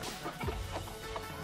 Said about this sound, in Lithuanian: Jau, faina vištos.